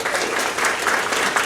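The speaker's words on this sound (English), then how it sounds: "applause for this one" Audience applause at a novel launch, steady dense clapping from a crowd filling the whole stretch without letup.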